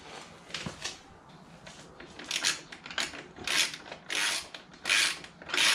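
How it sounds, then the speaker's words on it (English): A ratchet wrench clicks in uneven bursts while tightening a nut on a frame slider bolt of a 2017 Suzuki SV650, close and fairly quiet, the ratcheting strokes growing louder toward the end. "you just got to hold it in place and tighten this end"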